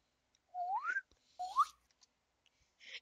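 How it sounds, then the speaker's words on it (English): A slide whistle sound effect from the Undertale video game plays twice in quick succession, each a rising swoop, followed by a short soft noise burst. "It just slide whistled!"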